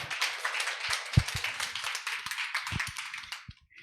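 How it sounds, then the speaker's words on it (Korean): A crowd claps steadily at a seminar panel in Korea, dense applause with a few sharper nearby claps, fading out abruptly at the end. "다시 한번 큰 박수 부탁드립니다."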